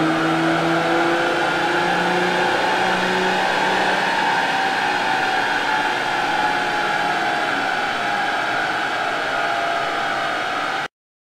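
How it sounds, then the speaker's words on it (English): Nissan Navara 3.0 dCi diesel pickup held on a dyno rig, its engine droning and climbing steadily in pitch with loud whooshing roller and fan noise, then cutting off abruptly at the end. "This is the dyno before run."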